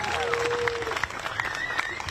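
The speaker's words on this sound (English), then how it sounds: "let's give a big round of applause to the organizers and everybody been involved in organizing this event" A crowd at an outdoor street protest applauds the organizers, clapping mixed with murmuring voices and a faint whistle-like tone, moderately loud and steady throughout.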